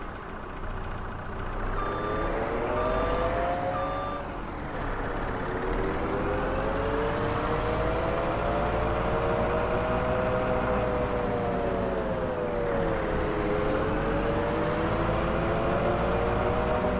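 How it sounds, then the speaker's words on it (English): A skid steer reverses and parks in Farming Simulator 25, its engine droning and swelling in pitch as it moves, with a reversing alarm beeping briefly early on and no voices. "I'm going to park the skid steer up there."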